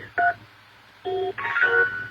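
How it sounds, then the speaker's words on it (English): Three electronic keypad tones sound in turn, the first short and the last two longer and nearly back to back, each a clean two-pitch telephone dialing beep from the LeapPad Incredibles video game, with no voice over them. "Use the numbers on the phone to enter your answer."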